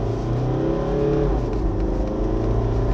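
Mitsubishi Pajero Sport 2018 engine revving hard under acceleration on a test drive, a loud steady roar with rising harmonics that hold through the whole stretch, no voices.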